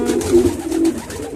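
A pigeon coos close by, two soft throaty calls in quick succession with low background noise.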